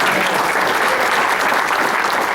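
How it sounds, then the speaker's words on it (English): Steady, dense applause from an audience at a Rotary club meeting fills the whole short stretch at even loudness, close and continuous. "a big round of applause for him"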